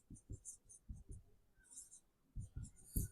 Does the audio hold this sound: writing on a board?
yes